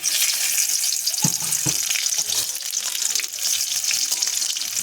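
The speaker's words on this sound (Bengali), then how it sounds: "এবার আমি এখানে দিয়ে দেব ফোড়ন, পাঁচফোড়ন, শুকনো লঙ্কা," Panch phoron, dried red chilli and bay leaf sizzle steadily in hot oil, a bright continuous hiss filling the whole stretch with a couple of soft stirring knocks near the start and no talking.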